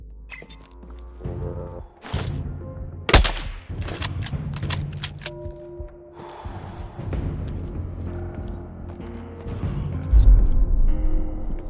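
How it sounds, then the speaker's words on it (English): Gunfire in the video game Sniper Ghost Warrior Contracts: loud sharp gunshots ring out over a rumbling game soundtrack, with several rapid bursts early on and heavier blasts near the end. "Someone is shooting nearby!"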